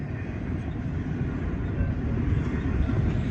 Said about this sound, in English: See right here, these train cars